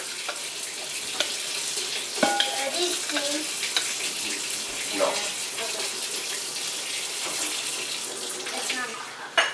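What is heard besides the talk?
water running from a tap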